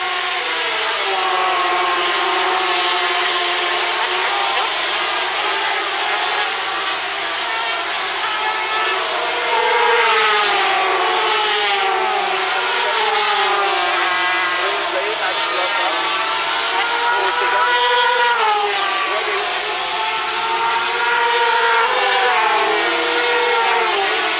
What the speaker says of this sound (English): Couple of different engines, the BRM Swiss Auto and the ADM R4, the Auf der Mauer RD4 engine.